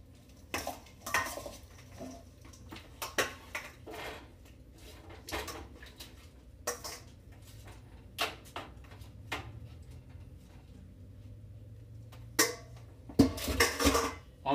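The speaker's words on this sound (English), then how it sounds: "So we're just gonna kind of coat our wings in our sauce." Chicken wings get coated in sauce inside a pot, heard as irregular knocks, scrapes and clatters of a utensil against the pot, close by, with quieter stretches between bursts and no talking.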